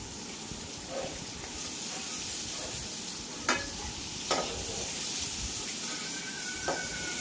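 Shrimp sizzle in hot oil while a Bengali vegetable dish with potato and long beans is cooked, a soft, continuous crackle broken by a few sharp clinks of a utensil against the pan.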